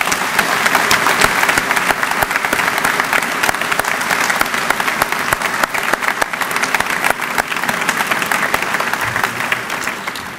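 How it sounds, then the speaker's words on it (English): Sustained applause from a commencement audience at Moses Brown School honoring faculty and staff, dense steady clapping of a large crowd holding level for the whole stretch with no voices over it. "Please, let us give the entire faculty and staff a round of applause for all their hard work and support."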